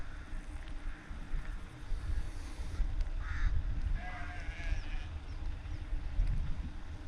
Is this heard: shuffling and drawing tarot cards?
no